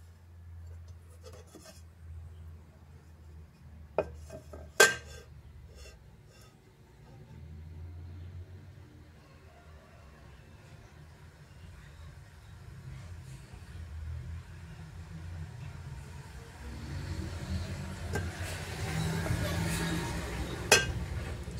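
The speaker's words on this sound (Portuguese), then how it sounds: "desconsidere o barulho de carro" Low engine rumble of cars passing at a distance, swelling and fading, with a couple of sharp clinks near the start and a louder pass toward the end.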